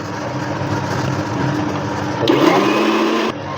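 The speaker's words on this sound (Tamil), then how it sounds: "அதே ஜாரில் போட்டு அரைச்சி எடுக்கணும்" A mixer grinder jar blending chikoo and banana for homemade ice cream, a steady close motor whir that shifts to a rougher, louder grind near the end before cutting down.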